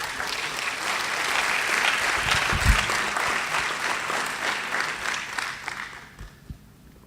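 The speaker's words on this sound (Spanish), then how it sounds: "Démosle un aplauso al Señor" A church congregation applauds during a morning service, a full, steady round of clapping that builds, holds for several seconds and then tapers off, with a low thump partway through and no talk over it.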